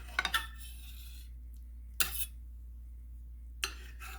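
Cutlery scraping and tapping on a plate while slicing through a bacon omelet made with pasteurized egg product: a quick cluster of clinks, a sharper tap a couple of seconds later and one more near the end, close and fairly quiet.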